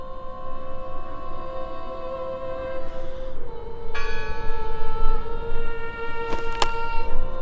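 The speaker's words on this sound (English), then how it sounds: "I heard the bell!" A church bell in the horror adventure game Draugen rings in sustained, resonant tones that overlap and linger, with a new strike entering partway through and a sharp, bright clang near the end, all over a soft ambient bed.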